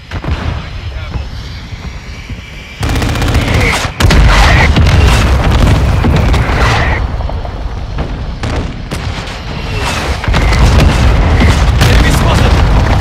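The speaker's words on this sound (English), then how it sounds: "Hostile mortar strike in the area." Mortar strike explosions in the video game Call of Duty: Modern Warfare II: repeated heavy booms and blasts crowd a loud, continuous battle din, with gunfire and shouted voices mixed in.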